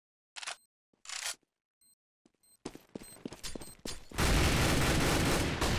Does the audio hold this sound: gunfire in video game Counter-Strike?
yes